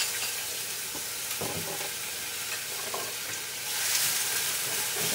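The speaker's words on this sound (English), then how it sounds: "Because now we're going to saute the onions." Onions sauteing in olive oil over a low flame, giving a steady broadband sizzle with a few stirring knocks and a brighter hiss swelling near the end; no voices.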